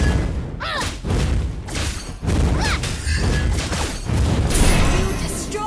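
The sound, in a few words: turret being destroyed, from the video game Mobile Legends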